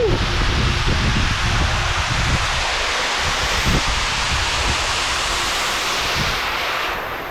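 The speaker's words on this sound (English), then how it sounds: "Alright, so I'm behind the waterfall spray." Waterfall spray at Tunglebung Falls in Richmond Range National Park, NSW, Australia, heard from behind the falling water: a loud, continuous broadband rush with low thumps and rustles of close handling throughout.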